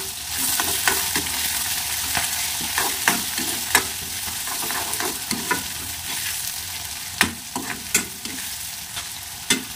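Chicken biryani masala fries in a pan on a stove as a spoon stirs it. A steady, close sizzle runs throughout, broken by repeated sharp scrapes and taps of the spoon, with no talk.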